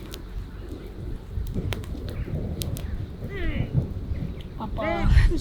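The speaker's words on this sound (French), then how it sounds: "Le tonnerre gronde." Thunder rumbles low and distant over steady rain, with people talking softly in French and a voice rising near the end.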